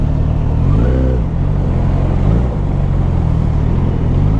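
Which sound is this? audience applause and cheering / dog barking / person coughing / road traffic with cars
road traffic with cars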